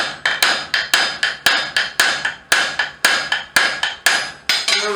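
A blacksmith forges hot stock with a 2 1/4 pound hammer, striking metal on an anvil in a steady stream of sharp, ringing blows, often in quick pairs, up close and alone.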